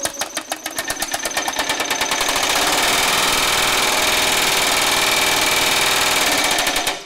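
A Baileigh MH-19 power hammer pounds sheet metal in rapid, evenly spaced blows, starting as distinct thuds and speeding into a loud continuous mechanical hammering that stops at the end, with no talk.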